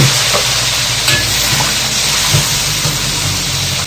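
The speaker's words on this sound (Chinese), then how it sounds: "两边煎黄就可以了，里面不用煎脆了啊。 已经煎得很黄了，加大火力了，料酒啊" Fish fries in a hot pan with cooking wine, giving a loud, dense, continuous sizzle and hiss up close, with a few small pops and no speech.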